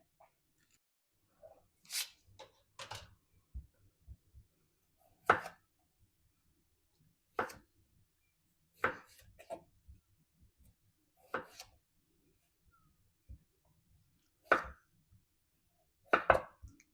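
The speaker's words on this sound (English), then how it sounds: "So I'm going to cut my red potatoes into potato wedges." A knife cuts red potatoes into wedges on a cutting board, making sharp, separate thuds at uneven intervals, about a dozen over the stretch, with quiet gaps in between and no talk.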